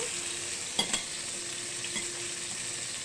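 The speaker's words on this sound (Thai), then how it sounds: "after that we put fish in" Fish and onion fry in hot oil with a soft, steady sizzle, interrupted by a couple of quick stirring clatters near the start, quiet and close with no talk.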